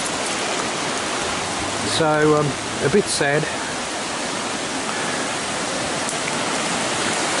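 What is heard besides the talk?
river rushing water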